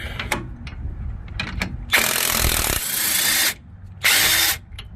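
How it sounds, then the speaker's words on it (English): Bauer 20V cordless 1/2-inch impact wrench loosening a bolt, with a few clicks and handling knocks followed by two loud, close bursts of hammering whir, the second shorter, and no talk. "I don't want to get my impact wrench stuck, which I just did, so let's push."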